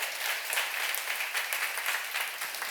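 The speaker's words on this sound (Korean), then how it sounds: "박수로 하세요." A church congregation at a seminar applauds in a dense, even wash of clapping. It sounds soft and somewhat distant, and it holds steady for the whole stretch with no voices over it.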